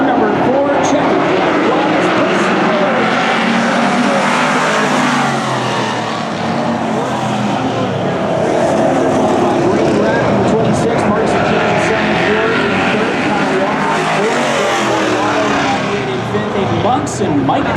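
Race cars in a heat race at a Bombers event, a continuous loud engine roar that rises and falls as cars pass, with a voice talking over it.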